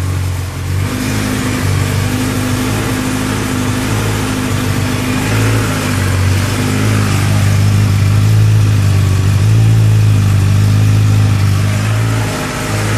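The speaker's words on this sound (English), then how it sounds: "So yeah, that's a cold start." Kawasaki ZX10R motorcycle on its stock exhaust starting cold: the engine catches about a second in, then holds a loud, throbbing high idle that swells slightly toward the end, close to the microphone.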